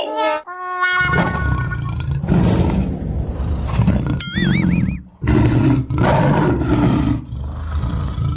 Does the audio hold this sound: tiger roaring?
yes